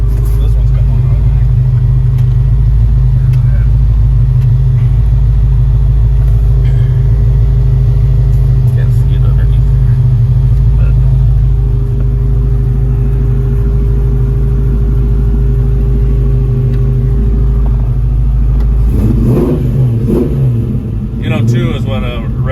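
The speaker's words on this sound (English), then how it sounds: "when revving this up sitting here, that motor's really smooth because it's not shaking the car, and it sounds really good" A 1967 Ford Mustang Fastback's engine runs with a steady, loud low rumble throughout, rising into a brief rev near the end, with someone talking over it.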